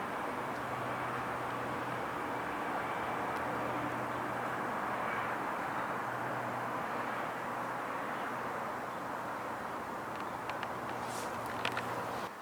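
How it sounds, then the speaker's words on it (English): Steady distant drone of aircraft passing high overhead near Vaduz, Liechtenstein, a low continuous rumble heard outdoors over faint ambient noise, with no talk. "See there, 3 planes flying over Switzerland."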